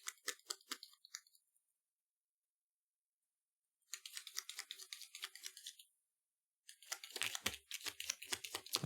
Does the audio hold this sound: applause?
no